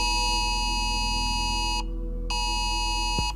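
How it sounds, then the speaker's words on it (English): A UK emergency alert alarm on a mobile phone blares a loud, harsh, steady buzzing tone, close by. It breaks off briefly near the middle, resumes, and stops abruptly at the end. "It's the brand new UK emergency alert system baked right into almost every phone sold in the last few"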